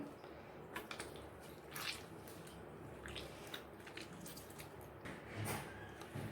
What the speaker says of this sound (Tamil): இப்போ 2 தக்காளி எடுத்து வச்சதை இது கூடயே நல்லா பிசைஞ்சு விட்டுக்கிறணும்.